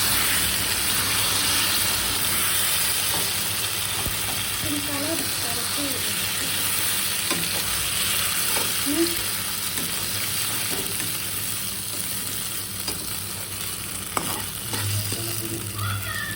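A paste of dry red chilli and cumin sautés in hot oil in a pan for mutton curry, giving a steady close sizzle with occasional stirring scrapes and faint background sounds.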